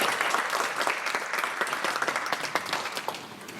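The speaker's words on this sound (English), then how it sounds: "We want to thank you for clapping for that first song" Audience applause for the brass band after its opening song at a concert, a dense, steady wash of many hands clapping that carries evenly from start to finish without talk over it.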